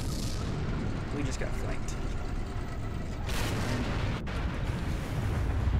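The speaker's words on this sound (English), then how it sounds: "the Stug and the Panzer is over here shooting at our infantry" Tank cannon fire from a StuG and a Panzer in the Heroes and Generals video game, heavy booms rolling continuously through a dense battlefield din, with a sharp blast near the end and someone speaking over it.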